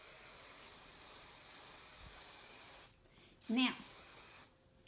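Hairspray misted onto a curly formal up-do in short close hissing bursts, a long spray, a brief pause, then another burst, with someone speaking a word in between.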